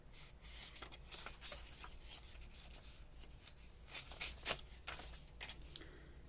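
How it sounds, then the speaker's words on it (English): A perforated page is torn from an altered book, a quiet, papery ripping and rubbing that runs throughout, with a few sharper tearing bursts toward the end and no voices. "I'm gonna just tear this out."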